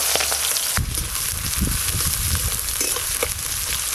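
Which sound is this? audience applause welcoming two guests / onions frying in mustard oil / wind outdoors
onions frying in mustard oil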